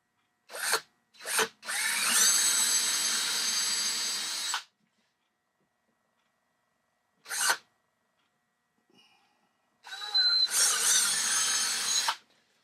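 A drill bores handle holes into a wooden drawer in several separate bursts, two longer runs of a few seconds each with short blips between and quiet gaps in between.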